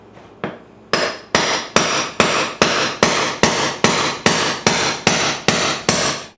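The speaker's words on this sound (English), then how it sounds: "we're going to take our brick chisel and hammer and just break out the tile" A brick chisel struck with a hammer breaks out ceramic floor tile, about a dozen sharp, loud metallic blows landing at a steady, even rhythm, each ringing briefly before the next.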